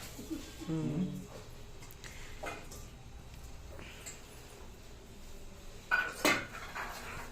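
Rice and dal being stirred into masala in a cooking pot for kichidi: scattered metallic clatter and scraping of a spoon against the pot, louder near the end, with a voice in the background.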